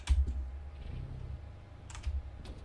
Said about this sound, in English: Hopefully the keyboard is less noisy today too.